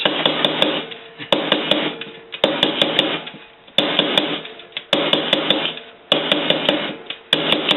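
Repeated metallic taps on a pot ring in bursts, each strike ringing briefly, with a steady rasping texture between hits.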